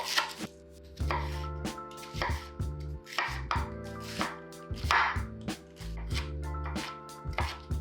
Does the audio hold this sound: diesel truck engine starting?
no